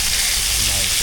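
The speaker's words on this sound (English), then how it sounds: "Let us fry up here." Fish frying in deep oil, a steady dense sizzle that holds at an even, close level for the whole short moment.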